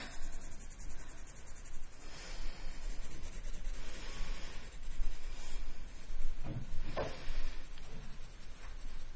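Soft, scratchy rubbing of a pencil on paper, in uneven back-and-forth strokes with occasional small taps, close up and steady.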